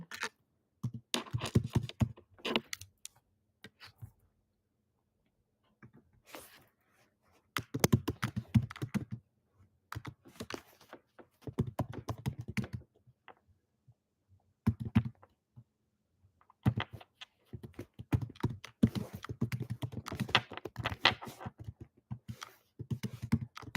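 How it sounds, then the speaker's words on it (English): Computer keyboard typing in a chat box, close and clear, coming in irregular bursts of rapid clicking keystrokes separated by pauses, with no talking. "I'm gonna type it right here in the chat."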